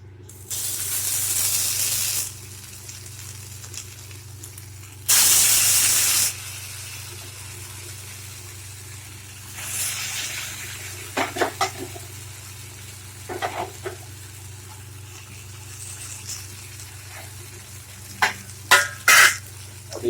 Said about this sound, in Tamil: தோசைக்கல் சூடாயிடுச்சு இப்போ அந்த மீனை அப்படியே போடலாம்